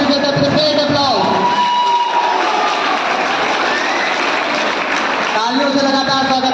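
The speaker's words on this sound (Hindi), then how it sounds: "Put your hands together with a great applause." Applause from the crowd at a Class 12 farewell party for 2022-23, a broad wash of clapping and cheering under a loud amplified voice speaking over it.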